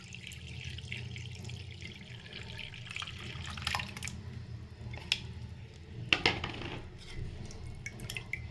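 Strained tamarind water with two green chilies soaked in it, for a green tamarind rasam, is poured in a soft, steady trickle with scattered drips, quiet and close in a kitchen.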